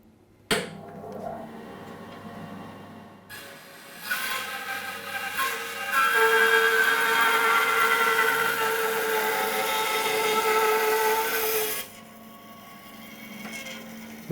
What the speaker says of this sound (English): we're just going to cross cut a bit of 3-inch oak